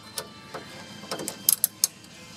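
A sway bar end link nut being tightened down against its bushings gives a few short metallic ratcheting clicks, sparse and close, with several sharper ticks near the end.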